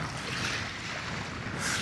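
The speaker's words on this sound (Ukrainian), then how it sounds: "вітер ще стає сильніший і сильніший" Strong wind at a fishing spot roars across the microphone in a steady broadband rush, swelling louder toward the end.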